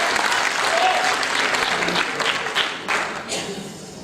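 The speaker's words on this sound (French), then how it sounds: "Et on applaudit." Audience at a political party national council in Vendôme applauding, a loud wash of clapping that thins and tapers toward the end, with faint voices briefly underneath.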